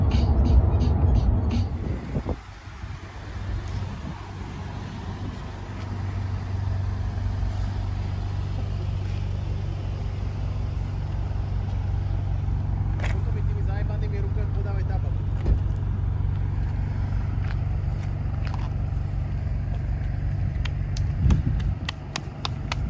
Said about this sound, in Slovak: Jak tu môže byť zápcha o polnoci?